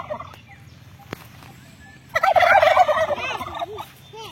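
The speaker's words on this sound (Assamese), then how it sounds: "ইহঁতে যেতিয়া মাত দিয়ে তিনিটা একেলগে মাত দিয়ে মাতটো শুনিলে আপোনালোকে ভয় খাব" Three large domestic birds, turkeys, break into loud, overlapping gobbling calls together at close range after a quiet opening with a single sharp click.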